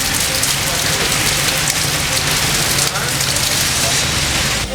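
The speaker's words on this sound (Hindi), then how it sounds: "बादलों से पानी बरसा और खूब बरसा।" Heavy monsoon rain pours down in Karachi, a dense, loud and continuous hiss of water hitting surfaces that stays steady throughout.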